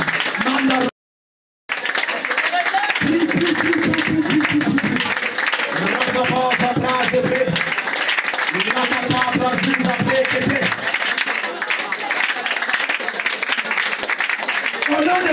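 Church congregation acclaiming and applauding during a service, continuous dense clapping and loud shouted praise, with a preacher's voice and music-like tones over the crowd.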